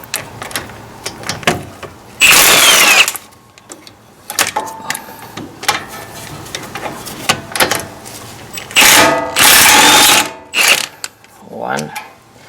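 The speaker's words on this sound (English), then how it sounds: "I'm gonna use the flex small socket and 17." Socket ratchet turning a 17 mm flex socket on a 2018 Toyota Tacoma during front rotor work, with loud bursts of rapid clicking around two and ten seconds amid quieter scattered mechanical clinks and light handling noise.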